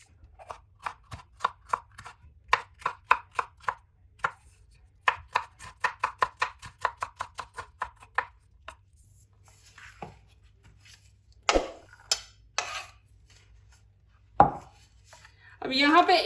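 A knife chopping green chili and capsicum on a board, a rapid, crisp series of close taps in bursts, slowing to a few heavier separate chops near the end.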